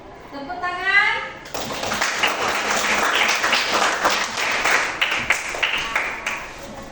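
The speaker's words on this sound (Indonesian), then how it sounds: "Tepuk tangan." A classroom of children applauds together, loud, close, uneven clapping that starts suddenly after a brief spoken moment and carries on steadily for several seconds, with a few voices mixed in.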